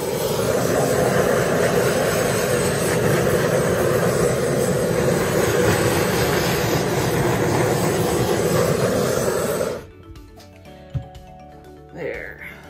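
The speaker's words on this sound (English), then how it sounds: "let's give it a quick torch" A handheld torch flame roars steadily and close over a poured acrylic paint surface for about ten seconds, then cuts off, leaving quiet room sound with a few light knocks.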